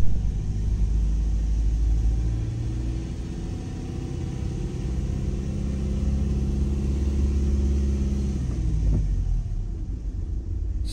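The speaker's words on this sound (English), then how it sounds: "So I'm going to drive really slow down here, okay? Because it's quite a tight road" A car rolls slowly along a narrow two-way road on Guernsey, giving a steady low engine rumble heard from inside the cabin, with the tone shifting slightly toward the end.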